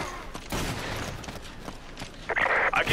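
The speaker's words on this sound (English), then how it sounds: "I can hear gunfire." Rapid bursts of gunfire in the video game Resident Evil 5 crack out in quick succession, sharp loud reports spaced irregularly, with a brighter burst near the end.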